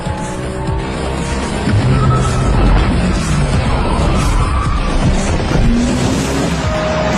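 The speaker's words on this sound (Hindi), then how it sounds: "उसने पहले मोड़ पर जबरदस्त गाड़ी घुमाई" A car drifting hard around the first turn of a race, with loud, sustained engine roar and long squealing tire skids close by, continuous throughout and no speech.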